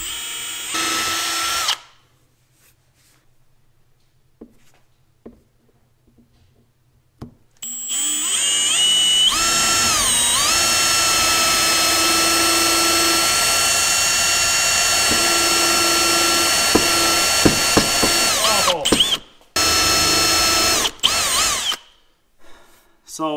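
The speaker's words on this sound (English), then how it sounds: "So I'm gonna drill a hole right here." A loud, sustained power drill whines steadily for about ten seconds while drilling into a Toro roller bearing race, with short bursts and pauses around it and quiet stretches before.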